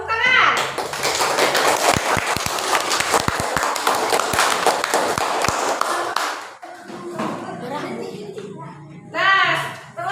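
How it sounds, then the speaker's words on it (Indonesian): Fifth-grade students in a classroom clapping together on cue, a loud burst of rhythmic and scattered hand claps lasting several seconds before fading into children's voices and a teacher speaking. "Tepuk tangan."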